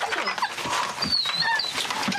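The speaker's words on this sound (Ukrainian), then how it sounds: "Від пережитого вночі стресу тварина відмовляється їсти та постійно скавчить." A frightened dog, a female stressed after a night of shelling, whimpers and whines in thin high squeals that rise and bend, close by over a steady hiss of background noise.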